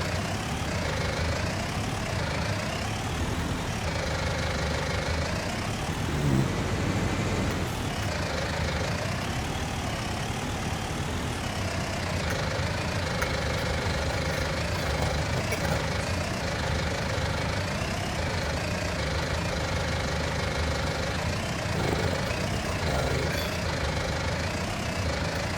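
A tractor engine idles steadily in the Farming Simulator 19 video game, a continuous low rumble with a slight rise and fall in pitch and no voices over it.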